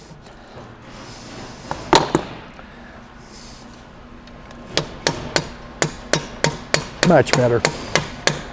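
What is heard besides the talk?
hammering a pin out of a light tower mid-plate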